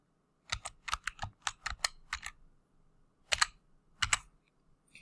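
Typing on a computer keyboard while entering a command in AutoCAD: close, crisp clusters of key clicks in quick bursts, a pause, then two more short flurries, with no talking.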